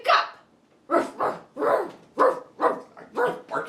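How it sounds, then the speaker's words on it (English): A dog barks about seven times in a steady, evenly spaced rhythm, close and loud with short quiet gaps between barks. "Barking at me?"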